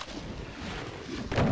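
Gunfire in the video game DOOM 2 aimed at a chaingunner enemy, a short run of rumbling rapid shots ending in a louder blast.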